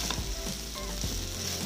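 Leftover roti chowmein stir-fries in a pan on a high flame, giving a steady loud sizzle with scraping stirs throughout, no voices.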